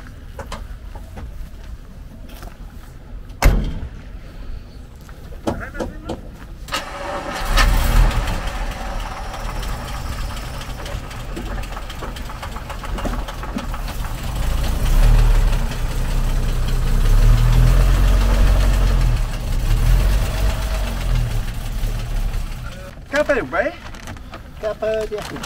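A Bentley engine cranks and catches with a sharp start, then settles into a deep, steady idle that swells and throbs for several seconds, with people talking close by before and after.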